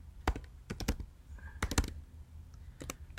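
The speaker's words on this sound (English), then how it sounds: "I'm going to go ahead and type in Guadalupe Iglesias." Keys on a computer keyboard are tapped in short irregular bursts of crisp, close clicks, fairly quiet, with brief pauses between clusters of keystrokes.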